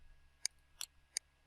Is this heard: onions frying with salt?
no